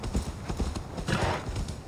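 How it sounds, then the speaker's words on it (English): Horse hooves clip-clop steadily in Assassin's Creed Valhalla, a close, even walking rhythm of distinct hoof strikes. "Oh, there's a horsey."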